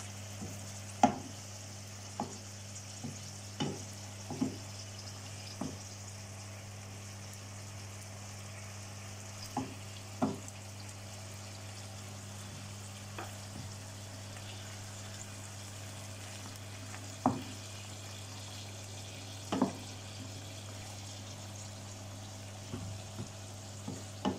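Shrimp frying in butter and garlic in a pan: a low, steady sizzle over a constant hum, broken by sharp scattered clicks and pops at irregular intervals.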